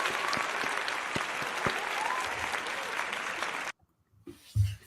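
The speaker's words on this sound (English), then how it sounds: "That needs another applause." Applause from an audience at a motorsport awards night, a dense sustained burst of clapping that cuts off abruptly, followed by a few faint scattered sounds.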